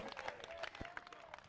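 Spectators at the 2018 World Barefoot Waterski Championships slalom final give a brief, faint round of applause, soft scattered clapping heard from a distance.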